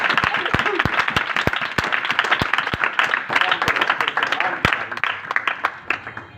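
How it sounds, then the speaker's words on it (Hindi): Loud applause from a church congregation during a Hindi-language Christian sermon, dense clapping with sharp individual claps standing out, sustained throughout and tapering slightly at the end. "जोरदार तालियां"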